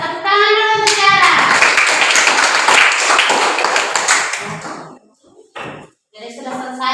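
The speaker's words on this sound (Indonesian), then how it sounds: "Tepuk tangan dulu untuk Tiara." A classroom of children claps hands together in a dense, loud burst lasting several seconds, fading out, with a teacher's voice speaking before and after.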